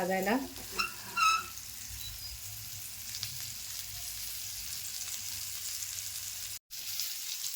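Fish sizzles steadily in a frying pan, a moderate continuous hiss with light crackling, and a few brief clatters of a utensil or pan near the start; no speech is heard.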